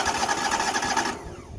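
An engine cranks while being started with the choke applied, a rapid, steady whirring churn that stops abruptly near the end.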